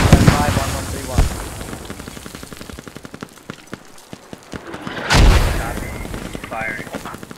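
Mortar barrage in the Squad video game: a dense run of sharp firing thumps and booms with a big blast near five seconds, mixed with team voice chat over the top.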